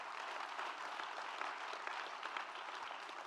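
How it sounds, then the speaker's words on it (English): A continuous round of applause from a seated audience at a college success event, steady and dense throughout with no voices over it. "Give the civil rights movement a round of applause for what it did for America"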